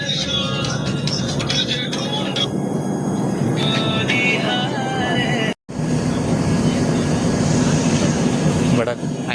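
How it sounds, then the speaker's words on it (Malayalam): A train rumbles past a halted Mangala Express on a Kozhikode-to-Nashik rail journey, a steady close roar with a brief cut partway, while people talk over it. "നല്ല ട്രെയിൻ വരുന്നുണ്ട് കേട്ടോ"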